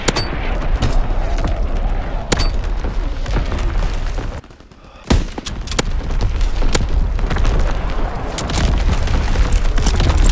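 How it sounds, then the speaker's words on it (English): Artillery battery fire in the World War 2 shooter Call of Duty WW2: sharp cracking shots and booms scattered over dense continuous battle noise, broken by one short quieter gap before the barrage resumes. "Firing battery one. Target position confirmed."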